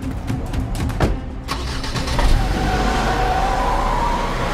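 A stolen car's engine turns over and starts inside a played-back video, rising into a steady, fairly loud running rumble after a few sharp clicks and knocks, with no one talking.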